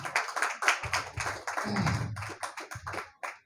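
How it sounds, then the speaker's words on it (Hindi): A small audience at a poetry recital claps in uneven, scattered bursts, with loud close hand claps that rise and fall rather than forming a steady roar. "एक बार जोरदार तालियां।"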